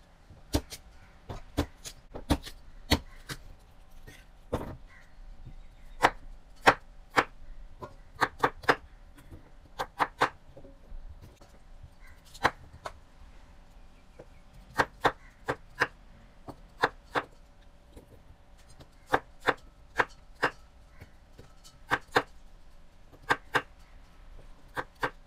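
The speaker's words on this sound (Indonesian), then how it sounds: "Semua sayuran sudah saya bersihkan dan mari kita potong, masukkan ke dalam panci saja." Vegetables being chopped on a cutting board while making Indonesian sour soup, sharp knife knocks coming in irregular bursts of quick strokes, close and fairly clear with no talking.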